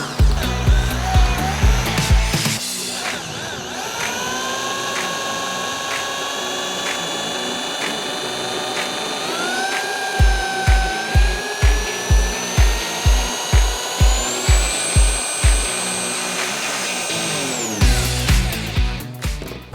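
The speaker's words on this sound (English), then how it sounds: "as it centres itself, the cutter goes around the outside. And once it starts to bite and bed in, then you can ramp the speed up a bit" A spot weld cutter drilling out roof welds on a BMW E92, a loud steady whirring drill tone that rises in pitch as the speed ramps up, with sharp rhythmic knocking bursts at the start and again mid-way.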